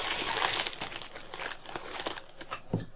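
A parcel bearing Russian stamps is torn open by hand, with close, fairly quiet crinkling and crumpling of its packaging in quick irregular bursts and no talk.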